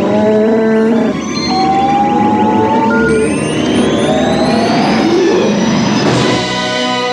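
Star Wars spaceship jump to light speed: a loud, sustained sci-fi effect of rising and sweeping electronic tones layered over a rumbling roar that builds over several seconds.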